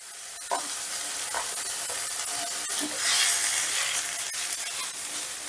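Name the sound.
stirring and drying lentil paste in a frying pan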